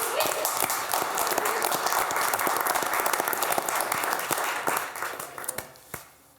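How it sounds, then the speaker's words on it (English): At a city council meeting, an audience gives sustained, dense applause that stays strong for several seconds, then thins into scattered claps and fades out near the end. "I think we should give a round of applause"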